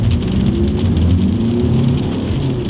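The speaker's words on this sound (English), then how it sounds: "That was full wheel spin" An Audi with a 2.0 TDI engine spinning its wheels, heard as a steady, loud, close roar of engine and tyre noise lasting throughout without pause.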